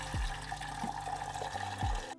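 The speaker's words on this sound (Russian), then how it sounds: "сливаем воду в кастрюлю," A steady stream of hot water pours from a jar of cucumbers and splashes into a pot, with occasional gurgling glugs.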